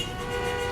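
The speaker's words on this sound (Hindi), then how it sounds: "अर्जुन क्यों हॉर्न बजा रहा है?" A car horn blares in one continuous, loud, close tone late at night in an action movie scene, sounding alone with no voices.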